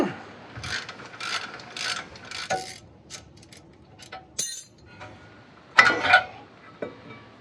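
Ratchet wrench with a 3/4 inch bi-hex socket clicking on a large, tight radius arm bolt on a Land Rover Discovery 2 suspension, heard in several close bursts of rapid ratcheting with metallic clanks between.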